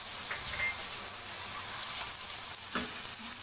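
Whole garam masala sizzling in hot oil as it goes into a beef stew masala already seasoned with salt, turmeric, whole coriander and crushed chilli; a steady, close frying hiss with a few brief crackles and stirring clinks.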